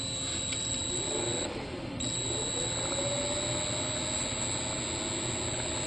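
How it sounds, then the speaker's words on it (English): A Dremel rotary tool spins a Bedini motor wheel, giving a steady high-pitched whine with a constant electrical hum beneath it. The whine holds an even level throughout, dipping briefly partway through before resuming. "what I'm going to do is just run the motor up a little bit with a Dremel tool"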